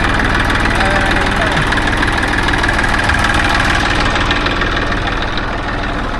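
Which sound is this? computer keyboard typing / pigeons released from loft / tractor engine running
tractor engine running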